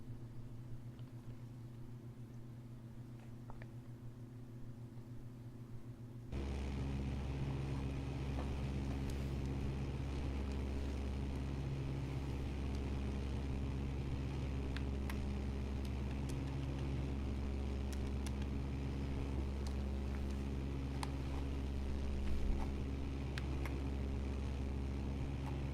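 A rocket engine burn in the video game Kerbal Space Program, heading toward the Mun: a quiet steady hum steps up abruptly into a louder, sustained droning roar with layered tones that holds evenly to the end.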